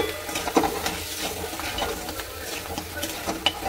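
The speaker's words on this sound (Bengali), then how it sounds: "নাড়াচাড়া করি" Crab stirred through spice paste in a pan gives a moderate sizzle broken by frequent scraping and stirring clinks in an uneven rhythm, heard close without voices.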